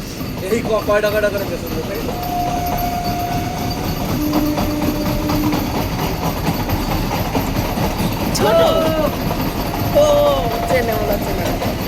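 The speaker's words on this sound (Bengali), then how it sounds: "এই দেখো এসি ট্রেন যাচ্ছে আসো" A fast AC local train on the Ranaghat–Sealdah line in West Bengal rolls past on the rails with a continuous, close rumble and clatter. Brief tonal horn-like notes sound over it while people talk nearby.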